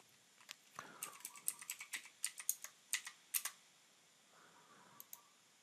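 Keys on a computer keyboard tapped to enter a date into online tax software: a quiet run of about a dozen separate clicking keystrokes in an uneven rhythm, then a pause and two last taps, with no talking.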